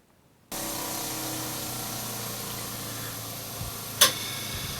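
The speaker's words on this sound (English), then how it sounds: "You can hear the grinder coming down in the background probably." A steady broadband whir of a bench grinder running down in the background after resurfacing a steel chisel fills the clip, with one sharp click near the end.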